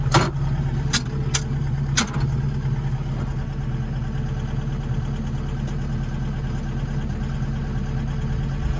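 A Takeuchi machine's Isuzu diesel engine runs steadily at idle, a constant low throb close by, with a few sharp clicks or knocks near the start.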